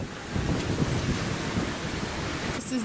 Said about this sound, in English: Look gnarly those waves. It's scary, they're really standing up.